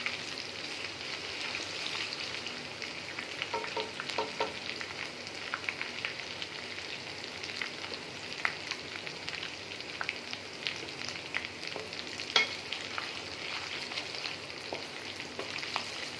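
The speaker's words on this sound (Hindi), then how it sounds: "अदरक लहसुन हमारा सौटे होना स्टार्ट हो गया।" Ginger and garlic sauté in a pan with a steady, moderate sizzle and scattered small pops and crackles throughout, no voices.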